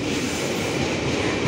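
A long train rolls steadily past on the rails, a loud, continuous rumble with wheel noise filling the whole moment and no talking.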